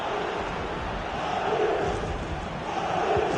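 A stadium crowd in the football video game FC 24 cheers and applauds in a continuous, dense roar, steady and fairly loud without any speech.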